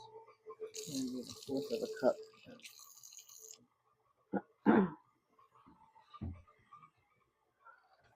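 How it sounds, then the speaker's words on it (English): Tap water runs in short bursts as egg is washed off hands in a kitchen sink, faint and close, with a person talking around the splashing. "Let me wash eggs off my hands."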